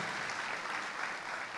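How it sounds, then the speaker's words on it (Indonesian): A church congregation claps together in praise, a dense, steady wash of applause filling the space without a break. "Clap for Jesus"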